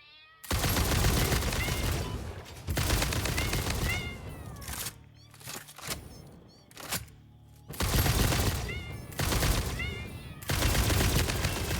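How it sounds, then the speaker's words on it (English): Rifle fire in the video game Satisfactory comes in several loud, sustained bursts with brief gaps between them, mixed with high creature-like squeals. "Maybe I should just bust out my rifle."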